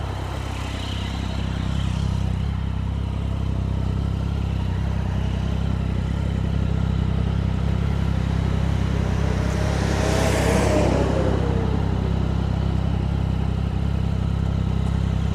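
Steady engine drone and heavy wind rush from a motorcycle riding through Tokyo on the way to a boat marina, continuous and close, with a passing whine sweeping by midway and no talking.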